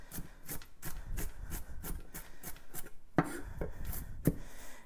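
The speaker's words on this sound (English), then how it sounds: "let's cut up some celery to make some dressing" A big kitchen knife chops celery on a cutting board in a steady rhythm of close, crisp thuds, with a couple of louder strikes near the end and no talking.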